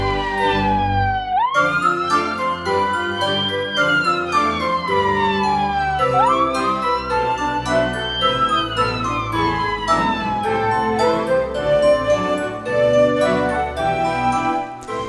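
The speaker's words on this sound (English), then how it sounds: "Daddy Pig was driving the ambulance today, and he went as fast as he could to the playground." A loud wailing ambulance siren rises and falls repeatedly over busy background music and jingling, sustained throughout.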